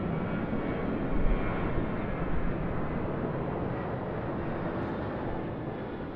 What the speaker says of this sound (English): So Delta, Airbus A350-900, currently lining up